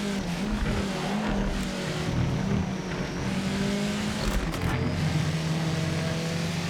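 A slow car's engine drones steadily in a racing video game, holding a low, even pitch with slight shifts in tone and a brief rise toward the end, with no talk over it.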